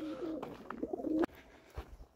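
Pigeons cooing inside their coop, a close, warbling low coo rolling for about a second, then a brief pause and a softer coo, with faint rustling around it.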